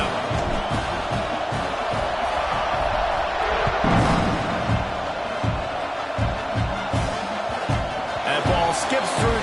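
A college football stadium crowd in Oklahoma roars steadily at kickoff, a dense, loud wash of cheering with scattered shouts and thumps, while a commentator talks over it.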